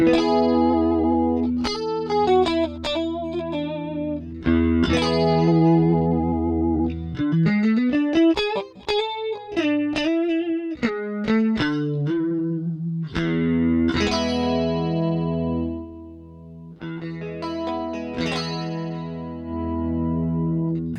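Electric guitar played through an MXR Rockman X100 pedal with a touch of drive, chorus and effects shimmer; chords and single-note runs ring out loud and sustained, with no talking.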